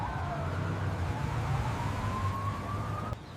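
A single wailing siren dips and then slowly climbs in pitch, moderately loud over a low traffic rumble.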